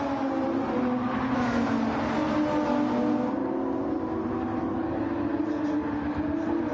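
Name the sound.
tires squealing in racing video game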